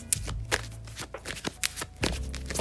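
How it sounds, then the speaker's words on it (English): A deck of oracle cards is shuffled by hand, several close riffling bursts with short pauses between them. "So let's get some oracle cards here."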